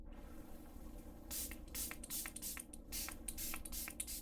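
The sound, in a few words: spraying liquid from spray bottle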